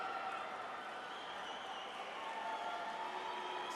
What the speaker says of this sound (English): helped off the field to an ovation from the crowd